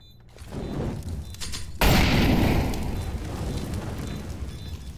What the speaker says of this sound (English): Throw Molotov bomb.